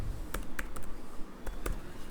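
Keys clicking on a computer keyboard as Python is typed into a terminal, a handful of quick separate taps spread across a couple of seconds, fairly close and moderately quiet, with no one talking.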